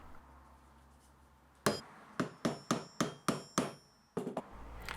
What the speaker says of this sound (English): I could use my setting tool to smash the washers down and then snip off the shaft and round over the top